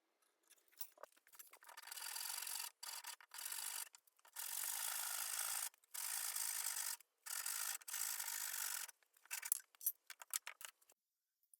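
Wooden parts of a homemade floating bed frame are sanded in several long, even rasping passes with short pauses between them, followed by a few quicker scrapes.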